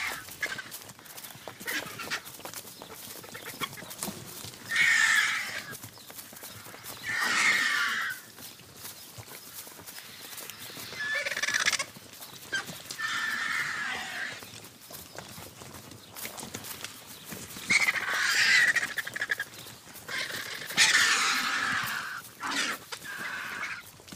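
Vultures squabbling while feeding at a carcass in Cabañeros, Castilla-La Mancha, Spain: repeated rough bursts of hissing and flapping break out every few seconds over a low, steady background, with no talking.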